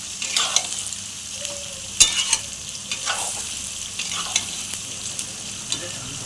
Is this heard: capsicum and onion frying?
yes